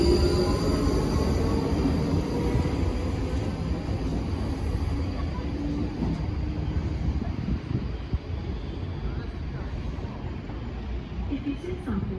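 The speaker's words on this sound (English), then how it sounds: "Departing now is the 1547 Southwestern Railway service to London Waterloo." A South Western Railway train departs a London-area station bound for Waterloo, with a steady low rumble of wheels and rolling stock filling the whole span at close range, plus light wind noise; a station announcement voice speaks over it.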